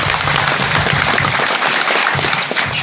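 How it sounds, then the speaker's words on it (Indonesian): Dense, steady applause from an audience at a dharma santi gathering in Karangsari village, a continuous crackling wash of many hands that holds at an even, fairly loud level for the whole stretch with no voices over it. "Tepuk tangan untuk Anda semuanya."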